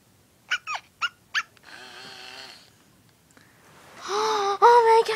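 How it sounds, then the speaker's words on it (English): A dog whimpering close by: short yelping cries at first, then a raspy, snuffling stretch, ending in louder drawn-out whines with soft breathy noise around them. "Oh my gosh, it's my doggy!"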